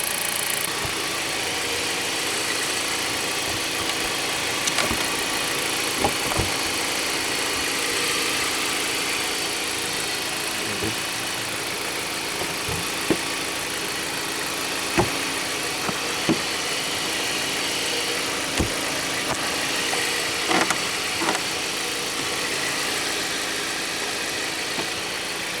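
A Jeep Patriot engine idles steadily with the hood cover just refitted after an oil change, a constant low hum with a few faint clicks and knocks scattered through it, no talking.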